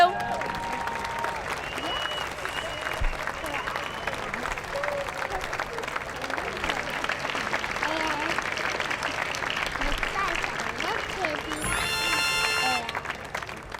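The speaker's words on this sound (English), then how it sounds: "Cheering and clapping for you." Audience cheering and clapping in a broad, continuous crowd roar that holds at an even level throughout, with scattered voices mixed in and a brief sharper tonal sound near the end.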